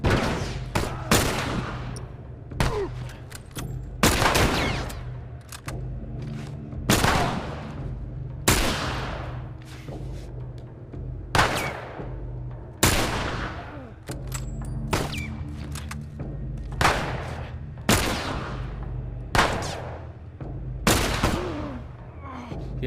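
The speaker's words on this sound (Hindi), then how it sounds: "ये एली भी गोलियां चला रही है।" Repeated gunshots ring out in the video game The Last of Us, sharp loud cracks and booms spaced irregularly every second or so throughout, each with a short decaying tail.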